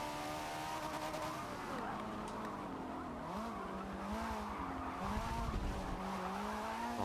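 Engines of muscle cars snarl and shift pitch as they race in Forza 7, with tires squealing through corners; the roar stays loud and continuous, rising and falling across the run with a voice speaking over it.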